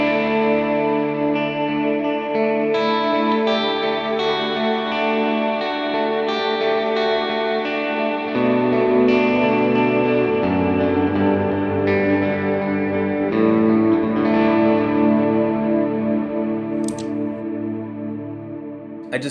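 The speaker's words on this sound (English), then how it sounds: "now I'm going to turn the Jet Revelation on and see what it sounds like." Electric guitar played through a JET Revelation pedal in the stereo effects loop of a Line 6 HX Stomp, sustained overdriven chords and notes ringing with a little reverb, loud and continuous, no talking.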